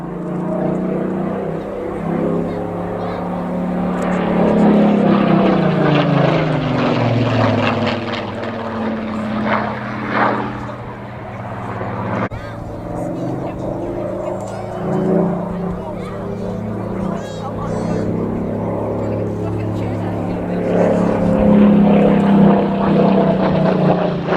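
A Spitfire propeller fighter flying a display at Cosford drones in a throaty, wavering engine note that swells and fades as it passes, with someone narrating over it throughout.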